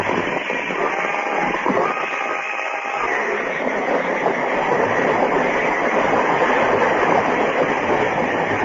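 A speeding train sound effect from a 1950 radio drama rumbles and roars past continuously, loud and close, with a rattling clatter throughout.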